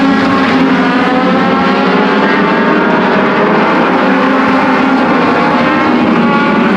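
Legends race cars at Peterborough Speedway roar past in a dense pack, a loud sustained engine drone with shifting pitch filling the whole stretch, close and continuous with no talk.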